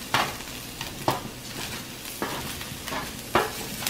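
Brussels sprouts sizzling in a frying pan while being stirred, with sharp scraping strokes every second or so over a steady close frying hiss.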